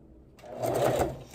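A sewing machine whirs briefly while stitching a T-shirt quilt, starting after a short quiet moment and rising to a steady close hum before easing slightly.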